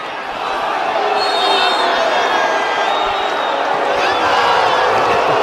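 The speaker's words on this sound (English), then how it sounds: "So the crowd gave a Bronx cheer for the start of the third" Crowd at a Big Ten heavyweight college wrestling match giving a loud, sustained Bronx cheer, a dense wash of jeering, whoops and voices filling the arena throughout.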